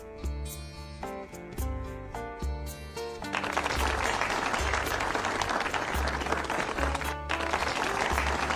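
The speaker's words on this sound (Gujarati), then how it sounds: "જોરદાર તાળીઓ થઈ જાય ભાઈ" Guests at a Veraval engagement ceremony applaud the engagement of Kajal and Kartik. Pulsing music with heavy bass plays first, then dense applause swells in over the music and continues.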